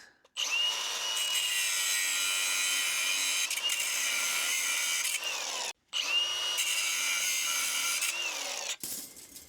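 A power saw trims wooden pieces to fit around a post while concrete forms are set, whining loudly and steadily through two long cuts separated by a short pause, close by.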